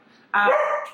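A pet dog gives a single loud, close bark that rings out sharply after a quiet moment in a home.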